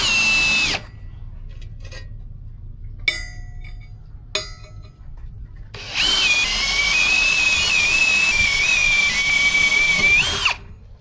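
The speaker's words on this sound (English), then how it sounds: "I'm going to mag drill them" Magnetic-base drill boring into steel plate during stabiliser repairs on a boat: a loud, steady motor whine with cutting noise runs near and continuous for several seconds, preceded by short bursts and clinks, with no talking.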